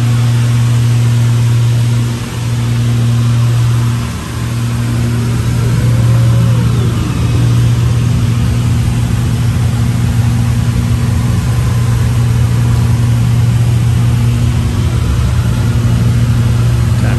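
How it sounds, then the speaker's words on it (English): Twin piston engines of a Beechcraft Baron drone steadily in flight on a left downwind approach at Black Point, Exuma in the Bahamas, a loud, continuous low hum with strong steady harmonics and brief dips in level, with no talk. "Gradually reduce that power, slow this airplane down"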